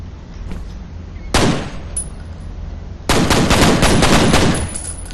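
Bursts of automatic gunfire ring out beside gas canisters in the video game F.E.A.R., a short volley followed by a longer loud rapid string of shots.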